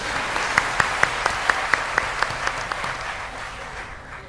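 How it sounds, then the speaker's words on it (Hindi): An audience at a Ram Katha spiritual discourse applauds, with a dense wash of clapping marked by a few sharper claps, fading slightly toward the end. "तालियां"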